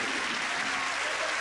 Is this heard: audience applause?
yes